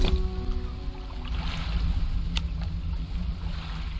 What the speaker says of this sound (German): Boah, der neue Motor ist aber echt gut, muss ich sagen